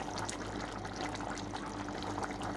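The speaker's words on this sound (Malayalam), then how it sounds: "അപ്പോൾ അതിലേക്ക് നമ്മൾ ഈ വറുത്തരച്ച തേങ്ങ ഒഴിച്ചു കൊടുക്കണം കേട്ടോ." Roasted ground coconut paste poured into a simmering Kerala-style jackfruit seed and prawn curry, a steady close liquid pour and trickle running continuously without speech.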